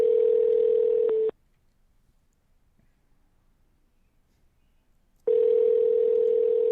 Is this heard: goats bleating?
no